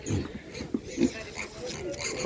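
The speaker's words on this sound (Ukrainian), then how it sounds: "Шість автомобілів з свинками." Pigs in vehicles at an animal market grunt and oink in short bursts at a moderate distance, with a couple of sharper squeals amid background murmur and faint voices.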